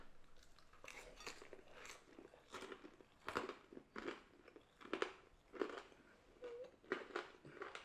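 Crunchy fried chicken and waffles being bitten and chewed up close, giving a string of sharp, crackly crunches in an irregular rhythm with no talking.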